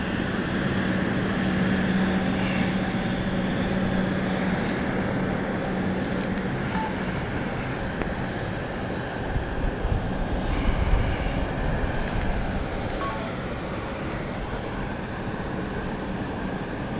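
An aircraft at London City Airport roars continuously as a loud, broad engine rumble and hiss that swells slightly midway, heard from nearby on a warm bank holiday, with no talk.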